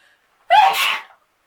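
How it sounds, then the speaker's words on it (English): One close, loud human sneeze bursts out after a short quiet intake, then fades into silence. "I'm gonna sneeze."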